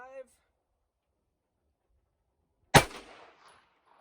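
One sharp, loud pistol shot from a 2.5-inch-barrel handgun firing OneStrike ammunition over a chronograph bursts out after near silence and decays quickly; a brief voice fragment comes just before it.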